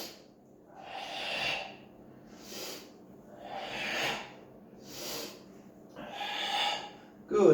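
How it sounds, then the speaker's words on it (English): Slow, deliberate breaths in and out during a Shito Ryu karate Sanchin breathing exercise, about five airy, hissing swells spaced roughly a second and a half apart, fairly close and moderately loud, with no talking. "Now we have 3 breaths in and out."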